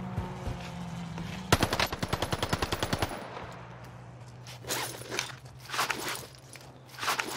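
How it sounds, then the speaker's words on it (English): Rapid automatic gunfire bursts out in a sustained string during a gunfight in Warzone Pacific, with a lone shot beforehand and scattered footsteps and game noise afterward over a steady background hum. "That was a nice little gunfight there"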